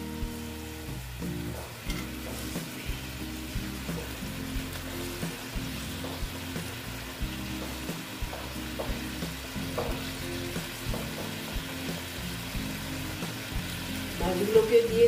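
Pabda fish going into boiling curry broth for tel jhal produce a soft bubbling simmer with light stirring and clinks, close and moderate in level, with a faint voice at times.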